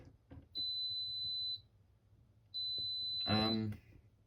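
An AEG Lavamat L76850 washing machine in service mode gives two long, steady electronic beeps, each about a second, high-pitched and piercing, with a pause between them and a voice briefly speaking after.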